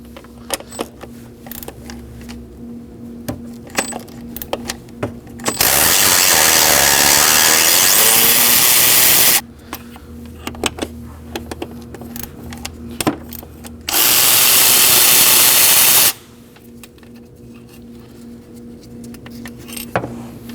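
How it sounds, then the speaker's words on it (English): A power tool spins out intake manifold bolts on a 2011-2016 Kia Optima, with two loud sustained whirring runs of several seconds each, close up, separated by quieter clinks and tool handling and no talking. "there's gonna be 2 more bolts at the bottom, so go ahead and take those out."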